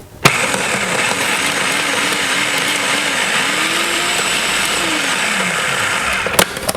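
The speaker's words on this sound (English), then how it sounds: "Then we'll give that a quick blend just to mix everything up." A kitchen blender pulsing flour and salt for a Dutch apple pie crust gives a loud, steady motor whir with rising and falling pitch sweeps from the short pulses, alone without voices.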